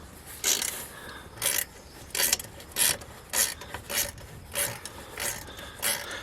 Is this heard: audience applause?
no